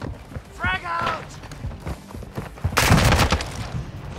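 A frag grenade thrown and exploding in the Modern Warfare 2 video game, a broad loud burst of noise after a shouted voice, mixed with other game sounds and talk.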